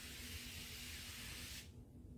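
Spray Away cleaner spritzed onto a mirror, one long continuous hiss up close that stops abruptly, leaving quiet room tone.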